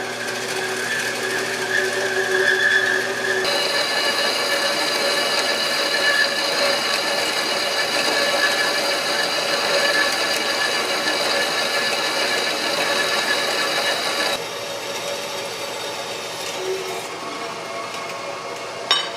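A panel being cut for an electronic instrument cluster conversion in a 1976 Mazda RX-5 Cosmo, a long, steady, loud droning power-tool whine with a brief shift in tone partway through and no talking.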